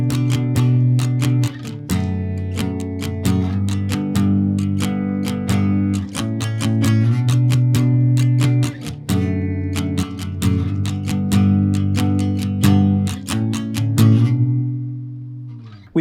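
An acoustic guitar strums the intro and verse of a song in a steady down-up pattern, loud and close, chords ringing continuously with no voices.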